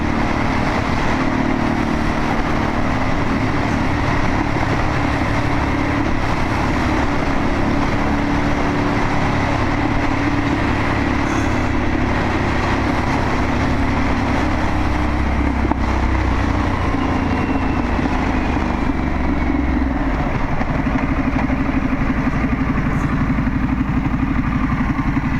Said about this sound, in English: This bike just has some unreal pickup